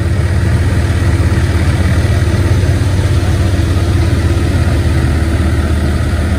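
A farm tractor engine idles close by with a steady low, throbbing rumble that holds constant and loud for the whole stretch, with no talk.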